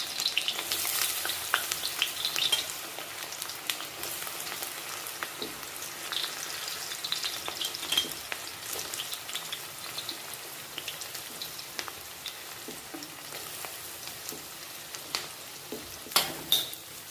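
Onions frying in a pan for brinjal paratha, a long, dense, rain-like sizzle with scattered crackles and a few sharper pops, steady and close throughout without speech.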